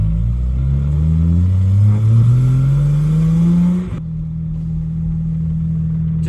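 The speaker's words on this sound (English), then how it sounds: "Just so I can hear my exhaust again." A BMW E90 335i with a freshly replaced clutch drives along, its engine and exhaust rising steadily in pitch under acceleration, then dropping to a lower steady drone after a shift, loud and close throughout.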